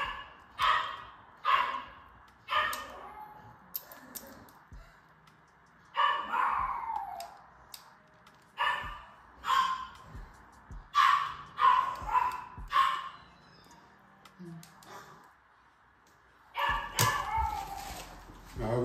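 Female Bape bloodline dogs bark, yip and whimper in repeated close bursts with short gaps between them, and people talk at times.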